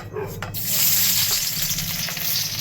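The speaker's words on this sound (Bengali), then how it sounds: "কড়াইতে আমি সর্ষের তেল দিয়ে দিয়েছিলাম, কড়াই তেল গরম হয়ে গেছিল। রসুন আর কাঁচা লঙ্কাটা দিয়ে দিচ্ছি।" Garlic and green chilies hit hot mustard oil in a pan and burst into a loud, close sizzle that builds within the first half second and stays steady.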